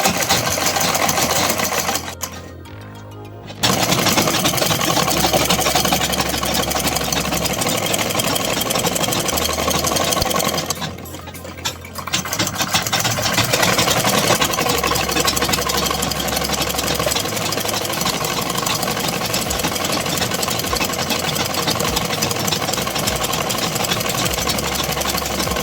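Close and loud, a sewing machine runs long continuous bursts of double stitching along a kurta seam, its motor whirring steadily and pausing briefly twice before resuming, with no one speaking over it.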